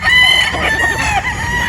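A close Boston Roundhead rooster lets out a single loud crow, a short rising and falling call with no talk over it.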